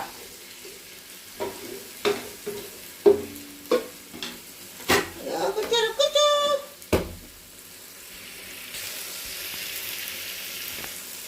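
Ginger, green chili and tomato stirred in a hot pan, with repeated sharp scraping and clinking strokes, a brief burst of sizzling in the middle, then a quiet steady hiss toward the end.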